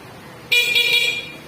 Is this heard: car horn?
yes